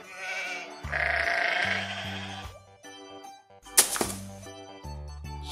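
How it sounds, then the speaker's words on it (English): Sheep bleating in a children's animal-names toy clip, several loud wavering bleats in a row over simple backing music, with a sharp clatter in the middle. "Sheep."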